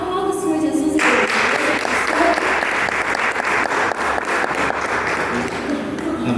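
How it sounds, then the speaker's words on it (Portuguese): Church congregation applauding in worship, steady broadband clapping sustained throughout, loud and close, with a voice speaking over the start. "aplauda o Senhor Jesus e Deus"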